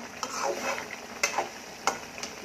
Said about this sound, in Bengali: রান্না করতেছি চিংড়ি মাছ দিয়ে, পাকা একদম মিষ্টি কুমড়া দিয়ে।